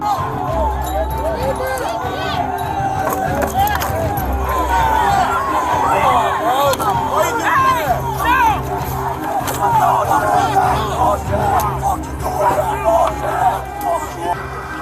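A large crowd of protesters on the Capitol West Plaza roars and shouts in a dense, continuous hubbub, with individual yells and cheers rising and falling close by throughout.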